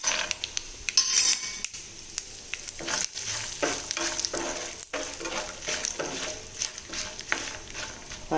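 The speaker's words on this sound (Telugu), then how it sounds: "వేగిపోయిందండి పోపు. పల్లీలు కూడా వేసేద్దాం." Peanuts hit hot oil with popped tempering spices and sizzle loudly while a metal spoon stirs and scrapes against the pan in repeated clanks, close up with no talking.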